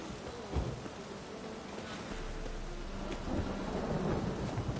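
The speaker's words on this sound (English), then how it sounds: "Must be mad running around in this rain." Steady heavy rain with low rolling thunder rumbling through it in the video game Witcher 3: Wild Hunt, constant and close, no voices.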